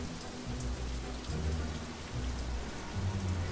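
Steady rain from the open-world Gotham stretch of LEGO DC Super Villains, a continuous patter of drops with low rumbling beneath, holding an even level throughout with no talk.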